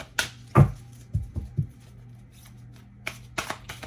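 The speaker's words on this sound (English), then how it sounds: "Let me shuffle real quick." A new, slightly sticky tarot deck is shuffled by hand, giving a few quick riffling bursts and soft slaps spaced out over a few seconds, close and clear with no talking.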